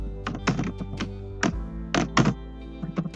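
Code is typed on a computer keyboard in short clusters of crisp, close keystrokes with brief pauses between bursts, heard alone.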